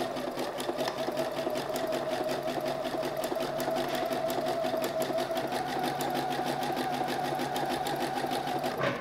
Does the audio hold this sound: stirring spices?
no